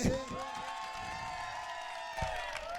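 Crowd applause and cheering for the tabla player, Anvit, during an evening prayer and song gathering at the Kuti, a dense steady wash of claps with a louder burst near the end.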